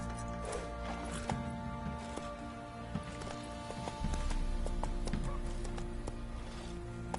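A horse gallops in The Witcher 3, its hooves drumming in a steady, moderately loud clip-clop over layered game ambience and background music.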